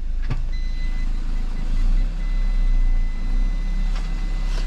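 Car reversing out of a tight space, a low idling engine hum with steady reversing beeps, close and continuous.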